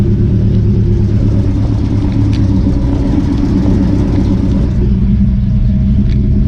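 A 1967 Chevy C10 pickup truck engine runs steadily while driving, producing a loud, constant low rumble that stays even and close, with no talking.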